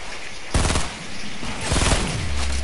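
Sniper gunfire in a PS4 shooter game: two loud, sharp cracks with ringing tails, one near the start and another a second later, alone without talk.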